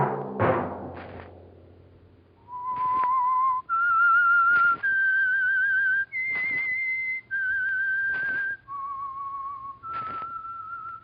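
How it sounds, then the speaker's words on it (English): A whistled melody of sustained, clear notes played one after another, each held about a second, following a brief noisy thump at the start. "Let that whistle be your signal"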